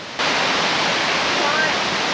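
A small mountain stream swollen by heavy overnight rain rushes beside a forest trail in Nanzhuang, Miaoli, Taiwan. After a brief quiet start it becomes a loud, steady, close roar of water.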